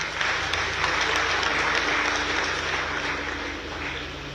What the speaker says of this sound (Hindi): उनका समर्पण है उसके लिए जोरदार तालियों से उनका स्वागत करें